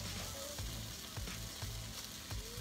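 Stuffed chicken breasts sizzle steadily in a frying pan just after being flipped, a dense continuous crackle with small pops.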